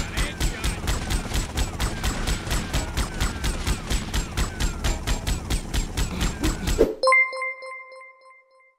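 Rapid automatic gunfire from GTA Vice City rattles in a dense, steady burst for about seven seconds, then cuts to a few short ringing metallic pings that fade out.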